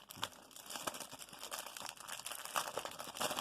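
Old tape peeled and torn off a mail package from Japan, a quiet string of crinkling, ripping bursts close up, with no talking.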